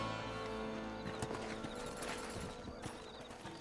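Horse hooves clip-clopping in Red Dead Redemption, a steady close trot with a brief whinny-like tone, layered over game music and ambience.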